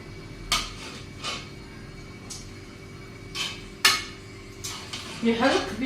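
A spoon stirs sauce into rice in a pot, making a few scattered scraping knocks and clinks against the metal, with a soft sizzle underneath and a short run of quicker scrapes at the end.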